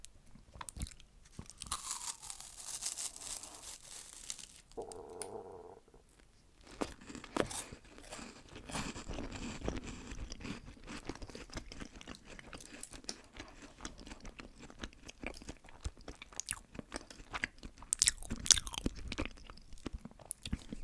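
A crisp crack as a Milka chocolate is bitten, followed by steady close-up crunching and chewing, quiet and alone.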